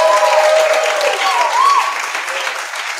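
Crowd applause with cheering voices and whoops on top, fairly loud and sustained, gradually thinning out.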